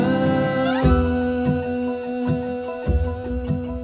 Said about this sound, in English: You guys can hear that the violin in the background too.